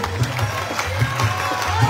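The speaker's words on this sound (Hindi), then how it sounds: "हनुमान जी का तालियों से स्वागत हो।" Audience applause welcoming Hanuman during a Bala ji devotional sankirtan by Kanhaiya Mittal: a loud, steady crowd clapping and cheering over a regular thumping drum beat.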